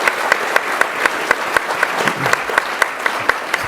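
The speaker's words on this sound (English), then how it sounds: "So a round of applause to Josh and his team at" An audience applauds at an industrial real-estate market breakfast event, a dense, steady wash of clapping from a room full of people lasting several seconds.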